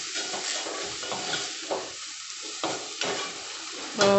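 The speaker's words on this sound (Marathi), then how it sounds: "तांदूळ छान परतून घ्यायचं आहे." Rice being sautéed in a pan for a mutton thali meal, a continuous hissing sizzle with repeated scraping strokes of a spatula, close and fairly loud, ending in a brighter metallic clink.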